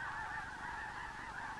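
Geese honk continuously in a marsh near James Bay, a dense overlapping chorus of calls that stays steady and fairly loud throughout.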